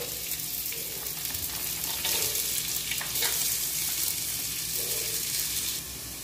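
Vegetables frying in ghee in a wok, giving a steady bright sizzle with a few louder crackling swells as pieces hit the hot fat.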